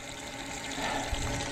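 Hot water runs from a newly installed outdoor spigot, fed by a 40 or 50 gallon natural gas water heater, a steady hiss of flowing water that swells slightly, with a soft thump partway through.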